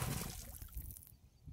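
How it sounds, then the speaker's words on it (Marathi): A large stone hurled into canal water lands with a brief splash at the start, followed by fading watery sloshing and dribbles that settle into quiet. "जोरात टाकूया दगडाला."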